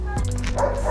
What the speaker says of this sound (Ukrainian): Порода бельгійська вівчарка Малінуа.